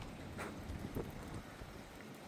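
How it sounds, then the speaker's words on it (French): Strong storm wind over the mountains around Grenoble roars as a steady, dull broadband rush with slight gusty swells, alone and without voices. "Putain, il doit y avoir un vent de l'enfer sur Grenoble,"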